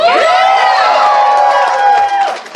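A crowd at the FurSquared 2020 fursuit dance competition erupts in loud, sustained cheering and high-pitched whooping close by, a dense wall of voices that tapers off briefly at the end.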